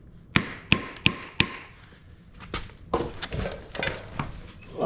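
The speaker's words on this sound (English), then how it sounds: "I'm using a framing hammer" A framing hammer strikes metal in a garage during a manual transmission swap on a 1994 C4 Corvette, four sharp evenly spaced blows, then quieter irregular knocks and clatter.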